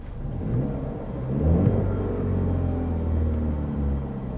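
Mercedes-Benz C200 hybrid engine idling quietly, heard from inside the cabin as a low, steady hum that swells slightly midway and stays subdued throughout, with no talking.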